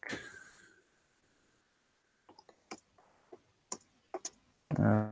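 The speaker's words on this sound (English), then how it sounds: "I can hear furious typing." Sharp irregular key clicks from someone typing quickly on a keyboard, coming in uneven bursts after a quiet start, with a louder rustle at the end.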